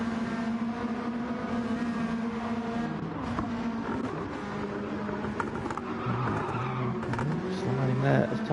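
Race cars in a sim racing game on an Australian mountain circuit, engines droning steadily while tires squeal and skid, with a commentator talking over it.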